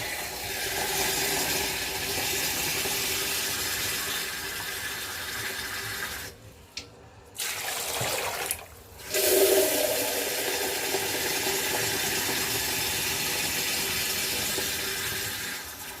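Broth streams steadily into a soup pot with a continuous splashing hiss, pausing briefly twice before resuming with a gurgle.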